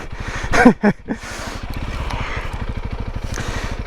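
A Honda CRF300L dirt bike ridden off-road through backwoods trails and mud, its engine thrumming in a steady, pulsing rhythm up close, with a couple of louder clattering knocks near the start.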